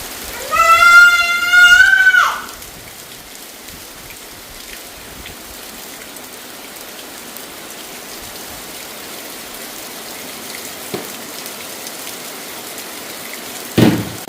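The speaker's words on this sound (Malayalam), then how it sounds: "ഇപ്പൊ പിന্നെയും തുടങ്ങി നല്ല കാറ്റും മഴയൊക്കെ ആയിട്ട് ഇങ്ങനെ പെയ്തുകൊണ്ട് നിൽക്കാണ്" Heavy rain with wind hisses as a steady, even wash throughout. A cat meows in several rising calls at the start, and a sharp knock sounds near the end.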